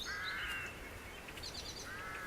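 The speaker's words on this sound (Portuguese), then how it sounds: "Vejam as aves." Crows give a few harsh, raspy caws against a steady outdoor hiss; the calls come in a short run at the start, a softer stuttered series midway and one more near the end, sounding moderately distant.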